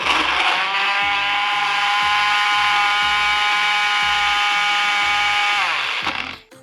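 Onion, garlic and ginger whirring in an electric blender with a little water, a loud steady motor drone with a rhythmic chopping pulse that runs continuously before winding down at the end.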